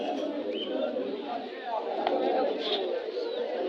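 Pigeons at a crowded pigeon market in Jinjira, Bangladesh, coo softly and repeatedly amid a murmur of nearby voices and market bustle.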